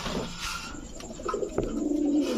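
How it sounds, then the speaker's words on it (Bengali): Domestic pigeon, a red-plumaged female at a bird market, giving soft cooing calls: a few low, throaty coos, close by, over background hum and faint chatter. "এখন দেখাবো টকটকা লাল গিয়ারের একটা গেন্দা মাদি কবুতর"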